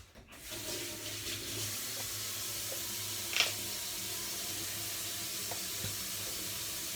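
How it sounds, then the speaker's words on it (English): Hands are washed under a running tap, giving a steady close rush of water with a brief splash or clatter midway, and no speech over it. "so what am I gonna do? Wash my hands."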